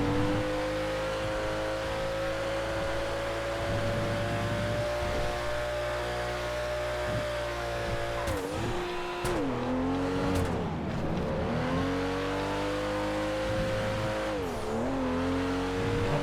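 A race truck in the GTA FiveM racing game, its engine droning steadily at high revs, then dipping and climbing as it shifts and slides with scrubbing tire noise, continuous and close with no talking.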